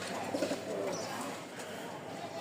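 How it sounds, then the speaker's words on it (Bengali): Soft, low coos of Rajshahi pigeons rising and falling near the start, over a constant background hiss. "এই দেখেন কবুতরগুলা খুবই সুন্দর আর চমৎকার জোড়া"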